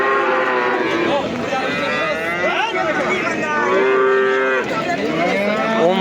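Local calves moo repeatedly in long drawn-out calls at a busy livestock market in Kitob, loud and overlapping against a crowded, noisy background.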